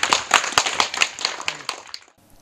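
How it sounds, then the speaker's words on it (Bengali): A group of people at a community relief-distribution gathering claps hands together in a short, dense burst of applause lasting about two seconds, close and fairly loud. "সবাই সবাই হাততালি দেব।"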